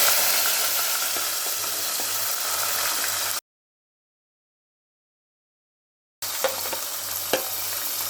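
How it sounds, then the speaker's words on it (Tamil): Chopped onions sizzle and fry steadily in a pan for roadside parotta and salna, a constant crackling hiss broken by a silent gap, with occasional stirring clicks afterward. "இப்போ வெங்காயம் கோல்டன் ப்ரௌன் ஆகிற வரைக்கும் வதக்கிக்கலாம்"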